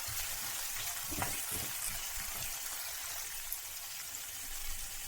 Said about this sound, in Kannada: ಗೋಲ್ಡನ್ ಕಲರ್ ಬರೋವರೆಗೂ ಫ್ರೈ ಮಾಡಿಕೊಂಡ್ರೆ ಸಾಕು.